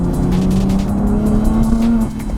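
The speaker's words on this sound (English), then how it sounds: "I can hear the intake noise a lot more. So spool, the little blow off sound, you know, it's a lot more prominent in this mode" Modified BMW G80 M3 with manual gearbox, engine intake roar with a steady rising drone close by and a faint whooshing blow-off layered over it, no voices.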